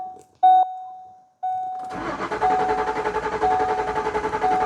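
A 2007 Ford Expedition engine cranks with the key after a couple of short electronic beeps, the starter churning rapidly and steadily without catching, close by.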